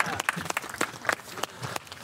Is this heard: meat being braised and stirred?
no